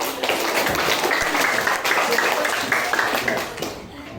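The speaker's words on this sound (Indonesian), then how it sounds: "Baiklah, tepuk tangan kita." Steady applause from a classroom of students after a game in a teaching lesson, dense and fairly loud clapping that holds for about four seconds before tapering off at the end.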